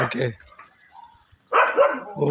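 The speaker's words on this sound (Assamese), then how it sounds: "ইয়াত কুকুৰ এটা আছে, বহুত" A dog barks in short bursts near the end, loud and close, after a person speaks briefly at the start.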